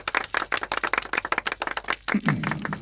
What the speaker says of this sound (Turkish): Hadi hep beraber Beter Ali'ye bir moral alkışı.